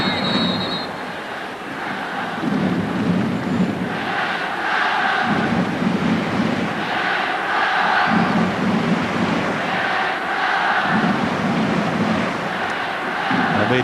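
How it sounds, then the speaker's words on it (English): An enthusiastic Japanese football crowd at the 2001 AFC-OFC Challenge Cup final against Australia roars and chants after a goal, a loud, dense, sustained stadium din with rhythmic surges. "the crowd has stepped up their celebrations and their chants once again"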